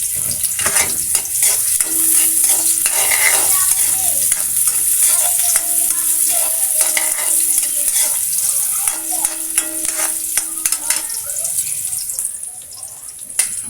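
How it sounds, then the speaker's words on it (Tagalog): Chopped garlic and onion fry in hot oil in a pan, sizzling continuously up close for about fourteen seconds while a utensil stirs and scrapes through them. "ilalagay na natin ang ating bawang at saka sibuyas"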